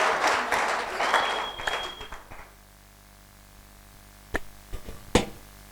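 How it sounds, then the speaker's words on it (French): An audience at a French-language church debate event claps in a dense burst that fades out after about two seconds, followed by a lull and a few scattered knocks or thumps. "Acclamons pour les uns les autres."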